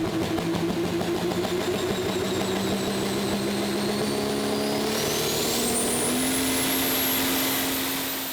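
A yellow Valtra pulling tractor with a new cylinder head, turbocharger and fuel pump roars steadily at a prostock tractor pull in Herning, Denmark, its loud engine note climbing in pitch as it pulls the sledge away.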